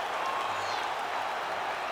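Arena crowd in the UFC 5 fighting video game, a steady wash of cheering and applause at moderate level, continuous and even throughout the short stretch.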